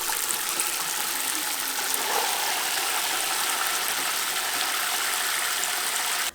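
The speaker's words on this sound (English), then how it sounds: "Fill it with cold water." Cold water pours steadily into a small laundry bucket, a close, even rushing splash that holds unbroken for several seconds with no talk over it.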